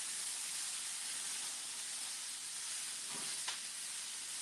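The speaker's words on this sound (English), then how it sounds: "We're going to saute these onions." Onions sauté in a pan for a home-style brunch dish, giving a steady, even sizzling hiss throughout, close and fairly loud, with a faint clink near the end and no voices.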